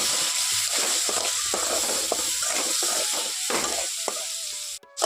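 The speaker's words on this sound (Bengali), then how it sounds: "এখন আমটাকে খুব ভালোভাবে আমি তেলের মধ্যে একটু কষিয়ে নিয়েছি" Raw mango pieces coated in turmeric sizzle steadily in hot oil in a pan, with a continuous frying hiss and occasional soft stirring scrapes close up.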